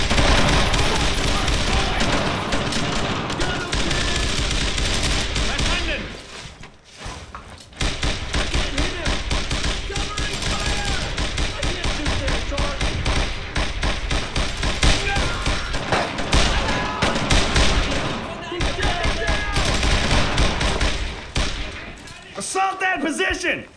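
Sustained suppressive gunfire from the World War II shooter game Brothers in Arms: Road to Hill 30, dense overlapping bursts and thuds throughout, loud and continuous with a brief lull midway, voices shouting over the battle.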